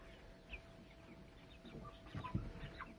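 Broiler chicks, about two weeks before slaughter, give faint scattered chirps and soft clucks inside their shed. The calls are quiet and sporadic over a low background hum.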